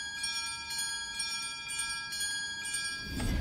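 Mistfall Hunter bell ringing, a sustained shimmering metallic tone with pulsing overtones that holds steadily, then gives way to a low rumble at the end.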